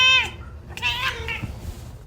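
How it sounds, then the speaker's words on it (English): A female cat with green eyes gives excited, siren-like meows up close, one sharp rising call followed by a longer wavering one. "they really weren't kidding about her meow. She kind of sounded like a police siren when she was excited."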